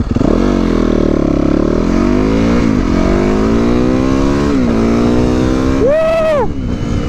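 A motorcycle revs hard while being ridden, a loud continuous engine roar climbing through the gears with pitch dips at each shift, then a sharp high rev near the end.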